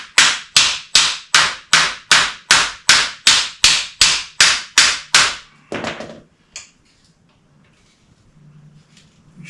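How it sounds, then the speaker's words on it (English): A hammer strikes the leaf springs of a 1928 Ford Model A roadster pickup, thirteen loud, evenly spaced metallic blows close by, followed by a few lighter knocks and then quiet. "hit them with a hammer and then they'll start to come apart"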